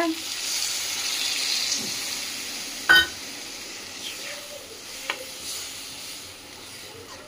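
Water poured into a cooking pan of simmering potatoes and tomatoes for a potato and mango curry, a steady soft hiss and wash of liquid with a couple of brief clinks, no talking.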